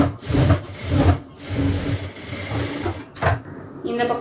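A sewing machine stitches fabric shorts with a double stitch, running in short bursts that stop and restart under a nearby voice talking.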